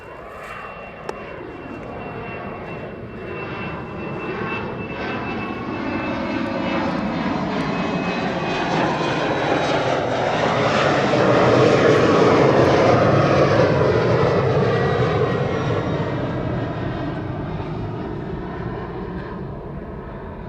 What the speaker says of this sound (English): German government airplane lining up behind it.